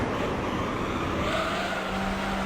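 A Mazda MX-5 racing engine in Gran Turismo 3 holds a steady, loud drone with a constant whine, a continuous close car sound with no talk.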